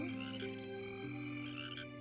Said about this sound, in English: And frogs.